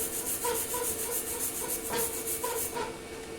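An angle grinder fitted with a wire cup brush scrubs a weld during overhead surfacing practice, giving a steady, loud, close abrasive whir with a few brief rising scrapes as the brush bites. No one speaks.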